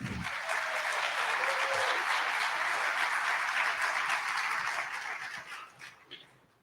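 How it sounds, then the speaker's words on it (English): A conference audience claps for a dean being introduced on stage, a full steady round of applause lasting about five seconds before thinning out and fading. "let's have a round of applause for Dean Witt"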